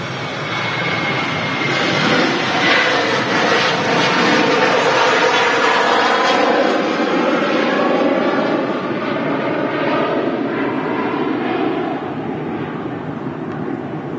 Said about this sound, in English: Here's the first of two Jet 2 737s out to Kos, following each other out.